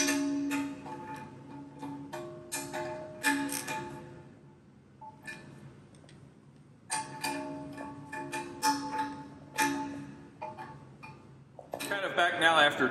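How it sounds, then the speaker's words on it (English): Flange bolts being tightened in a star pattern during a gasketed flange bolt-up, with repeated metallic ticking and clinking of a wrench in bursts, close by, separated by brief pauses. "I'm tightening the remaining bolts in an X pattern"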